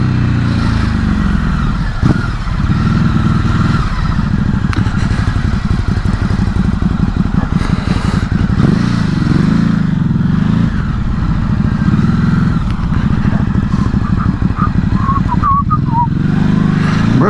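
A Ducati Hypermotard 950 SP rides onto the M25, its engine droning loud and steady up close under rushing wind, with no talking.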